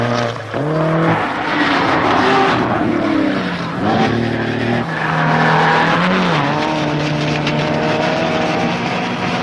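Soderstrom's rally car on a stage of the rally, engine loud and close, revving hard with rising and falling harmonics as it jumps, lifts off and lands, with tyre noise throughout.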